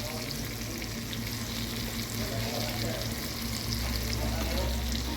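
Sardine fish curry masala with coriander powder and ground spice paste frying in a pan, a continuous dense sizzle with stirring scrapes, fairly quiet and steady throughout.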